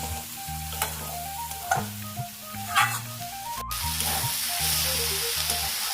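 Cauliflower pieces sizzle steadily while being stirred and lightly fried in a pan, with scraping stir strokes recurring throughout and a continuous frying hiss, no voices.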